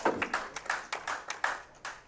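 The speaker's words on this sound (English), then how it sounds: "Respect from the crowd there, very good." Crowd clapping after a winning out at a women's division pool match, a brief run of scattered hand claps with uneven sharp bursts at moderate distance.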